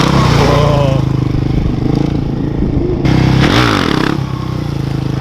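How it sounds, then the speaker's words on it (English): A 125 Kawasaki two-stroke motorcycle revs hard nearby, a loud, buzzing, raspy engine note that rises and surges through the whole stretch, with a voice briefly audible underneath. "You can hear two-stroke Dan there on a 125 Kawasaki."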